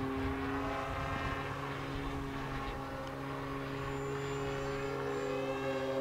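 A free-flight FF Demon model aircraft flies overhead, its small engine droning steadily as a continuous buzzing whine with slowly shifting pitch, at moderate distance.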